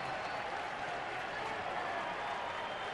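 A baseball stadium crowd applauding in a sustained ovation for the pitcher, a dense, steady wash of clapping and cheering with no breaks.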